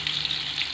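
Tofu frying in hot oil while cooking a potato and tofu stir-fry: a steady, close sizzling hiss with soft crackles, continuous and even throughout, with no talk.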